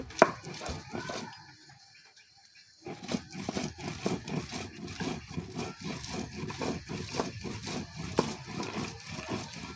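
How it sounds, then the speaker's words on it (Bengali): Dried fish is ground by hand on a stone slab (pata), with rhythmic rubbing and crushing strokes repeating steadily after a brief pause, close and fairly quiet, no talking. "এখন শুটকিটা বাটা দিব"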